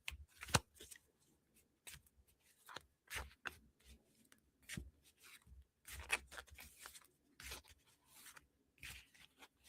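Tarot cards are shuffled in a quiet room, giving a series of crisp riffling and flicking bursts, close and fairly soft, repeating irregularly with short pauses between them.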